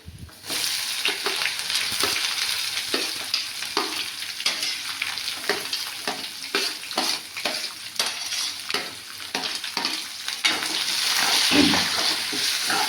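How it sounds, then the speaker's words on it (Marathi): Onions hit hot oil for a pea and mushroom curry, crackling in a steady, loud fry with repeated sharp clicks and scrapes from stirring, swelling louder toward the end. "आणि आता टाकूया आपण कांदा."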